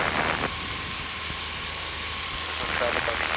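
A small airplane's engine drones steadily and loudly in flight while flying a traffic pattern parallel to runway 5, a constant cockpit roar with a pilot talking over it.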